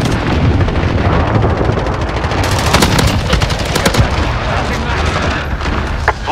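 Precision airstrike in Modern Warfare 2019 PS5 gameplay: a loud, continuous roll of explosions and rapid gunfire fills the scene, with a burst of sharp blasts in the middle and game voice callouts faintly under the din.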